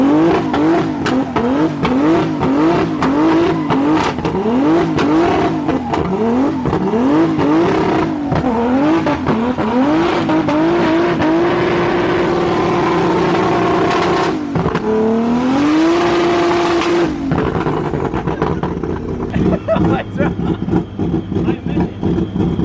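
A turbocharged BMW E46 M3 revs loudly and continuously on a dyno, its engine note rising and falling through repeated revs before climbing in a long pull and dropping away near the end.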